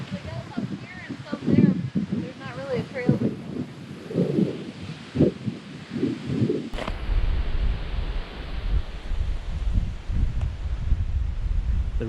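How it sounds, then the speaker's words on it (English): Wind gusting outdoors along a walkway at the Pipestone National Monument in Minnesota, a broad rushing roar that swells up loud in the second half after a voice speaks over lighter rustling at the start. "A little bit of wind there."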